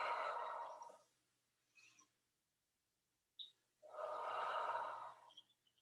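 Deep breathing during a yoga breath movement, two long airy exhales separated by a quieter short breath, close and alone without talk.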